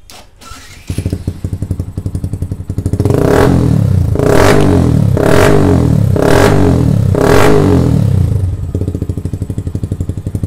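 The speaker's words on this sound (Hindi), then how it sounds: "फ्रेंड्स एक्चुअली बाइक जो है हम लोग का स्टार्ट हो गया, बंद करते हैं," A Yamaha R15 V2 motorcycle with a fuel-injector supply fault cranks and catches, then runs loud and close with several rhythmic revs before settling to an uneven idle.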